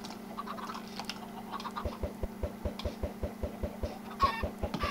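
Rapid, evenly spaced clucks and pecking taps from chickens on a Minecraft farm repeat in a steady rhythm, with soft game-like chicken sounds in the background.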